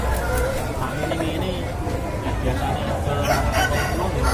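Chickens and roosters cluck and crow among crowds at the traditional Ngemplak chicken market in Tulungagung, a dense, busy din of birds with people talking throughout.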